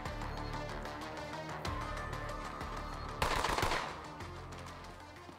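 Automatic gunfire in the shooter game Borderlands 3 rattles in a continuous stream under game sound, with a louder, harsher burst near the middle before settling back to steady firing.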